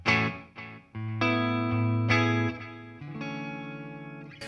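Sustained electric guitar notes and chords ring out through a delay pedal, with repeating echoes trailing each strum, a clean delayed tone played alone.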